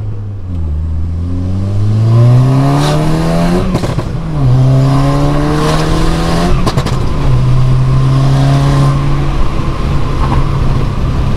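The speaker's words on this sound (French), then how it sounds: "Le son est beaucoup moins fort" An Audi S3 engine accelerating through several gears, each pull rising in pitch then dropping at the shifts, with a muffled, subdued exhaust note that stays loud and close throughout.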